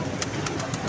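Pigeons at a pigeon club in Dharampura coo in soft, rhythmic pulsing notes, close and continuous, with a steady airy background.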